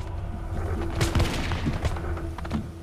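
Musket volleys crack and boom in a Battle of Lexington reenactment, with overlapping shots bunched around the middle and a dull rumble of echo and commotion, and no clear speech.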